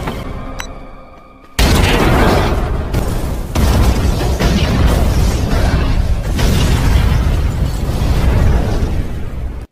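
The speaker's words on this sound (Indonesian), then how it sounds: "Dia melemparkan tas berisi bom ke arah mereka dan meledakkannya sehingga sebagian besar dari mereka mati." A loud bomb blast from a film erupts after a brief quieter lead-in and rolls on as a sustained, heavy roar and rumble with crackling debris for several seconds.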